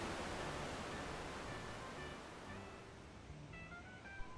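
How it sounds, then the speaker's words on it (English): Wildcat Falls and the Cascades in Yosemite Valley, swollen with floodwater and raging, heard from the parking area as a steady, dense roar of rushing water that holds constant and fills the whole scene. "from the parking area, you can hear and see these waterfalls raging"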